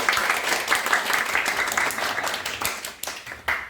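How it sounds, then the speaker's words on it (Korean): Audience applause at the close of a lecture by a PUBG Battlegrounds developer, a steady wash of many hands clapping across the whole stretch, dense and fairly loud, with no voices on top. "박수."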